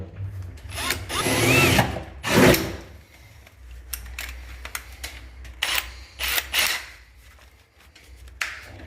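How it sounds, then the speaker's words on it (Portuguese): Small drill boring a hole into a plastic evaporator support during an air-conditioner installation: a loud whining burst of about two seconds, then short revving pulses and clicks as the bit works the plastic, with no talk. "Eu vou fazer um furinho no cantinho do suporte para ele ficar aprisionado contra a caixinha"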